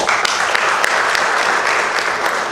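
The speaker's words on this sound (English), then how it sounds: "Please, round of applause." Sustained applause from an audience at a youth entrepreneurship event, a steady dense wash of clapping lasting the whole stretch with no talk over it.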